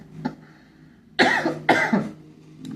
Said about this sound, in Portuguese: Perdão, ainda tô tossindo.